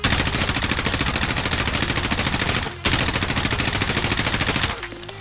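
Sustained rapid automatic fire from an M4A1 rifle in Call of Duty Warzone, two long unbroken bursts separated by a brief gap, loud and close, ending in a short tail.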